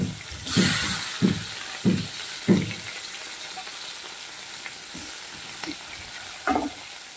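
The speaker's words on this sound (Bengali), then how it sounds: "চিংড়িগুলোকে আমি ভেজে নিচ্ছি। বড় সাইজের চিংড়ি আছে।" Large prawns fry in hot mustard oil in a wok with a steady close sizzle, broken by several scraping stirs and clunks of a spatula against the pan.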